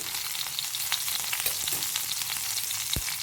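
Hot oil sizzles and crackles steadily with small spitting pops as green chilies fry, one sharp pop standing out near the end.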